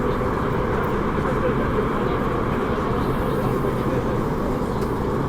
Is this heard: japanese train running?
yes